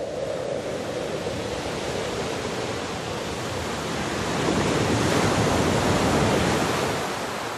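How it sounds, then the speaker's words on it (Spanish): Sea waves wash continuously against the shore of an island, a broad, steady surf roar that swells slightly toward the end, with no voices. "El sonido del mar es paciente y va pasando a primer término poco a poco, sin tu prisa"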